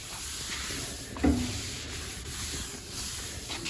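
Rag or cloth rubbing across body filler on a car body panel, a steady low scuffing texture with one brief louder swipe near the middle, close and without talk.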